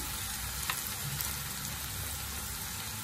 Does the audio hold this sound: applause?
no